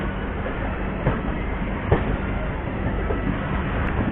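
Bhrigu Superfast Express running on rails, heard from inside a 3AC coach: a steady loud rumble of wheels with a couple of sharp joint clacks, continuous throughout.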